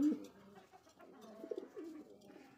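Soft, low pigeon coos repeat close by, a gentle throaty warble with no talking.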